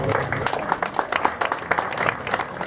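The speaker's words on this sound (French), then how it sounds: "on peut l'applaudir aussi." An audience at a French song festival applauds warmly, a crowd of individual claps forming a lively, slightly uneven patter at close range, with some voices murmuring underneath.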